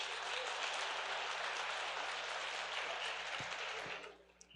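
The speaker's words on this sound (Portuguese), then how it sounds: "uma salva de palmas para o engenheiro aqui." Applause from a church congregation during a couples' service, a dense steady patter of clapping that fades out abruptly near the end, leaving a faint hum and a few stray sounds.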